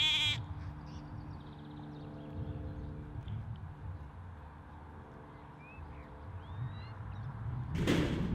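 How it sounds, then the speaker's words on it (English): A sheep, an injured one on a farm, bleats in a few drawn-out wavering calls over quiet ambience, ending with a brief knock like a door. "There's an injured sheep."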